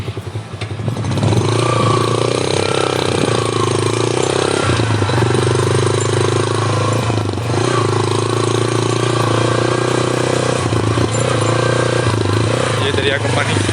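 A motorcycle engine labors steadily while riding through deep sand beside the Sindh River, a continuous loud drone with a low rumble, and voices talk over it throughout.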